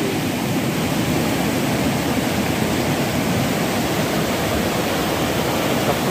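Water of the Nagfeni River at a picnic spot in Gumla, Jharkhand, a steady, loud broadband rush like a small waterfall or rapids, unbroken for the whole stretch with no voices.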